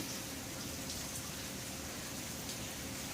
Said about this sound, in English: The rain hasn't even had a chance to subside yet.